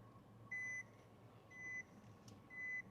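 Parking sensor on a 2022 Nissan Dayz Highway Star S-Hybrid hatchback warning while reversing: three evenly spaced, sustained electronic beeps, each about a third of a second long, clear against a quiet cabin hum.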